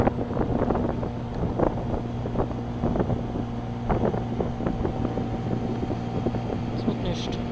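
Wind buffets a boat on the water as steady, broadband rushing noise with a low engine-like hum and scattered knocks and creaks, continuous throughout.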